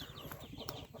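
Native desi chickens clucking faintly at close range, a few soft, brief calls over low background noise.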